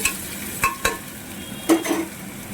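Potato pieces frying lightly in a pan for ghugni, a steady soft sizzle with a few short clacks of a spatula stirring them, close and moderately loud with no voices.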